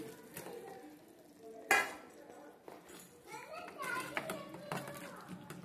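Fried chicken pieces are stirred into chili masala for chicken pickle, with wet scraping and sizzling stirs in uneven strokes. A voice talks over it throughout.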